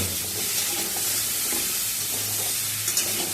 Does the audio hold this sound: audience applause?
no